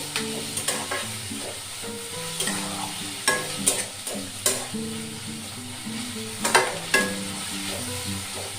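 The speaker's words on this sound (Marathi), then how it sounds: "कांदा आता चांगला लाल रंगाचा होईपर्यंत आपण परतून घेऊ।" Onion sautés in a pan until browned, a low continuous sizzle with irregular scraping and tapping of a spatula as it is turned, some strokes louder than others, and no talking.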